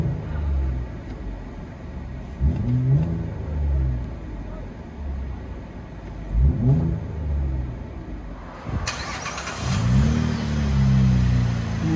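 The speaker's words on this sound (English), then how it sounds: "Muffler delete, Cadillac SRX." A 2010 Cadillac SRX with a 3.0L V6 and a muffler delete revs repeatedly, giving loud raspy rising blips at steady intervals with a rumbling idle in between, while someone talks over it.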